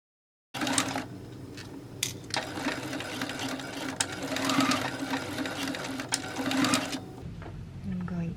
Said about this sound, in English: Now I'm just going to sew the elastic in place